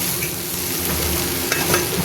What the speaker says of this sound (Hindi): गैस धीमी है तो थोड़ा टाइम लगा के ये सब्ज़ी पकेगी